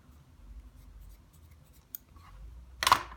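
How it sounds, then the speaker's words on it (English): Scissors snip a wooden skewer into pieces, leaving faint small clicks and then one sharp, close crack of the cut near the end of an otherwise quiet stretch. "So I'm gonna cut this skewer into 4 pieces."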